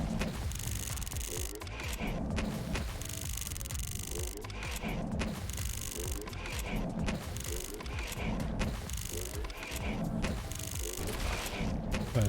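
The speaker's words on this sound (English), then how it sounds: "Exploding mushroom field." Exploding mushrooms going off in a minefield in The Riftbreaker: rapid bursts of popping, crackling blasts that repeat in clusters over a steady, rumbling game background.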